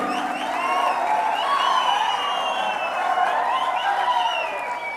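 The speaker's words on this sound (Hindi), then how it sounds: "एक बार जोरदार तालियां" An audience welcomes a speaker to the stage at a motivational talk event with loud, sustained applause mixed with cheers and whoops, forming a thick continuous wash of crowd noise throughout.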